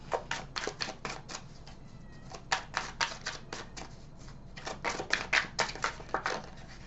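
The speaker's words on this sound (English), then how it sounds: "These cards are a little hard to shuffle because they're so big" Large, stiff tarot cards are shuffled in a rapid run of crisp clicks and flutters, pausing briefly mid-way, quiet and close.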